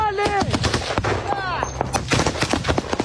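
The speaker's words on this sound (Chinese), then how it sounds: "立即和敌军陷入激烈枪战。" Rapid bursts of gunfire ring out in a close firefight between Ukrainian soldiers and enemy troops. Sharp, loud shots come in irregular clusters, with shouted voices mixed in.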